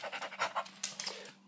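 A dog pants in quick, rhythmic breaths close by, the huffs running steadily with a few sharper bursts near the end, with no talking.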